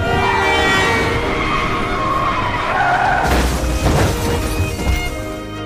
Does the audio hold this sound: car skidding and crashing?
yes